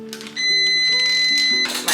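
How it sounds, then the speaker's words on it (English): A kitchen timer beeps in a home kitchen during cooking, a bright electronic tone sounding in a short repeating pattern, close and clear over faint background noise. "That's my timer to flip."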